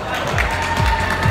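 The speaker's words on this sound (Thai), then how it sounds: "ขอเสียงปรบมือต้อนรับบี้เดอะสกา" An audience claps to welcome a guest onto a Thai movie review show. The applause is a steady, moderate patter that runs throughout without a break.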